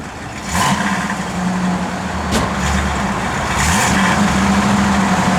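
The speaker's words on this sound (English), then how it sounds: "Go ahead and give it a rev." A 1969 Ford Mustang Mach 1 engine idles, then revs up twice with rising pitch, steady and fairly close, with a low rumbling drone between the blips.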